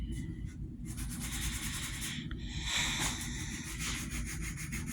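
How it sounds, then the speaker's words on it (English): A one-pound Norland Hudson Bay axe head clamped in a vise is sanded by hand with 80 grit sandpaper, producing quiet rhythmic back-and-forth scratching strokes close up, with brief pauses between passes. "So what I do, so I'll put the head in the vise, take a little 80 grit sandpaper,"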